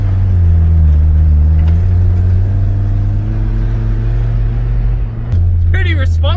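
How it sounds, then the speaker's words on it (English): Toyota Hilux with a freshly installed engine and a rattling timing chain, idling steadily with a loud low drone close up, cut off near the end as a voice chimes in. "But now the timing chain's kind of rattling, and it doesn't sound anywhere near as sweet as what it used to."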